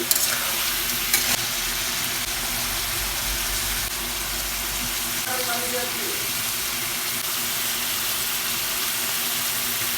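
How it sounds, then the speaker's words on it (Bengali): Beef frying in a wok with ginger and garlic, a steady close sizzle and crackle of oil running throughout, with brief stirring scrapes partway through and no talk. "মাংসের পর আমি আদা রসুন দিয়ে হালকা হালকা করে ভাজছি।"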